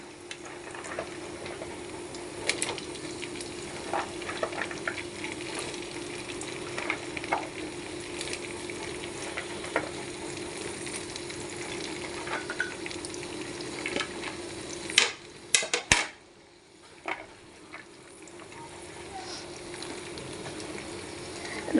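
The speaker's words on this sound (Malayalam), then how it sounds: "ഇനി നമുക്കിതിലേക്ക് അമ്പഴങ്ങ ഇടാം" Hog plums and garlic fry in oil while being stirred, a steady soft sizzle with intermittent scraping and clicking of a spoon, then a sharp burst of clatter near the end before the frying quiets down.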